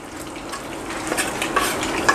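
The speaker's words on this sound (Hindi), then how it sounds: "इसको मैं चिकन को अच्छी तरह पकाऊंगा, फ्राई कर लूँगा।" Long-cut chicken strips sizzle and fry in butter and olive oil in a wok, a close, steady crackle broken by light utensil scrapes.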